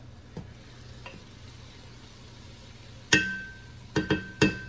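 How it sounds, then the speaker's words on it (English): Collard greens stirred in a hot pot, a faint sizzle underneath, then a spoon clinking sharply against the pot rim several times in quick bursts toward the end. "Now let's give my collard greens a stir, cause now it look like they pretty tender"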